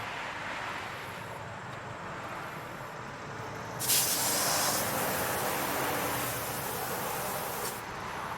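Water spray rinsing a car floor mat that had grease and oil on it, a soft steady hiss throughout that turns into a louder, brighter gush partway through, then eases back.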